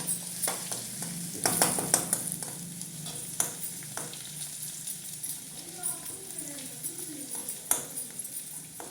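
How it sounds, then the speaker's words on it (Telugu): Garlic paste fries in a hot pan with a constant sizzle broken by spoon stirring and clinks on the metal, while someone speaks over the cooking. "మనం ఎల్లిగడ్డ పేస్ట్ వేసాము కదా దీంట్లో వేసి కొంచెం మెర్రగా అయ్యేదాకా ఇలా చేయాలి"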